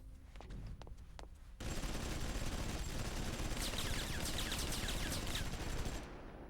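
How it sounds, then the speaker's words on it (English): Sustained rapid gunfire in the video game Xenosaga Episode I starts abruptly after a quieter stretch and stays as a dense, loud, continuous burst for several seconds, then cuts off. "they're gonna accidentally fire on Shion"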